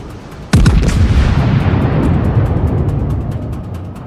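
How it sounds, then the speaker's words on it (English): A warship's main battery fires a heavy salvo in the World of Warships naval game, opening with a sharp, loud blast that rolls into a long, dense rumble slowly fading over several seconds, with no voices. "It's another salvo against the Queen."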